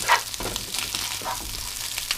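Egg fried rice with achaar sizzling in a hot pan as it is stirred, a close, crackling fry with soft scraping and shuffling through the short stretch, no voices.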